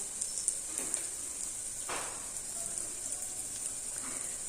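Carrots and chilies for a Kathiyawadi-style sambharo are stir-fried in oil, giving a steady, soft sizzle with occasional faint scraping stirs, quiet and continuous, with no talking.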